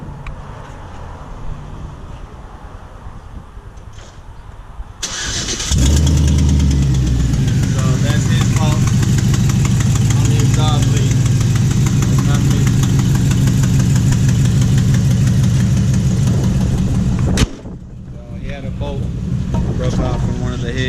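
A 2011 Chevrolet Silverado pickup with an exhaust manifold broken off the head cranks, fires and idles loudly and steadily for about twelve seconds, then shuts off abruptly, with quieter ambient noise before and after.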